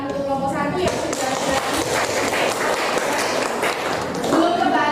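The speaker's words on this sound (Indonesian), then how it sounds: "kita apresiasi dulu tepuk tangan untuk kelompok 1" Classroom applause for a student group, a room of hands clapping steadily and fairly loudly, with voices talking over the clapping.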